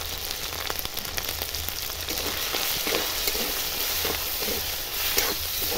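A spice paste of coriander powder, cumin paste, chili powder and turmeric fries in oil in a pan, with a steady loud sizzle and repeated scraping stirs throughout and no talking.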